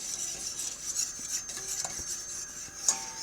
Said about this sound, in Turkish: Ben bunu birazcık daha karıştırıp geliyorum arkadaşlar